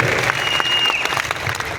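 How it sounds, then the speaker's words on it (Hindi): Enthusiastic audience applause for a group of leaders, a continuous loud patter of many hands clapping close by, with no voices above it. "एक बार जोरदार तालियां होनी चाहिए सभी लीडर्स के लिए"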